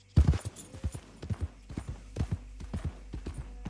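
Horse hooves clip-clop in the video game Red Dead Redemption 2, a quick uneven series of close, crisp thuds over a low steady rumble, with no talk.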